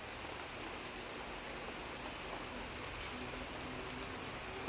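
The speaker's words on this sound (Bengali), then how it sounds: "দেখো এখন বৃষ্টি হচ্ছে চারিদিকে" Steady, dense rain hiss fills the whole clip at an even level, with no voices and no distinct drops standing out.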